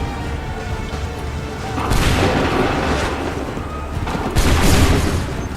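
Musket volley fire in the video game Assassin's Creed III: two heavy, booming volleys of massed shots over a rumbling battlefield din, with no talking.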